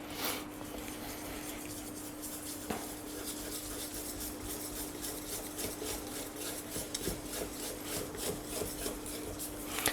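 Pancake batter being whisked in a bowl, a continuous close scraping and rubbing sound that stays even throughout, with no talk.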